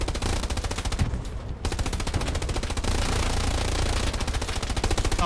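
Sustained machine-gun fire rattles in rapid, loud bursts in the WWII shooter Hell Let Loose, with only a brief break before the firing resumes.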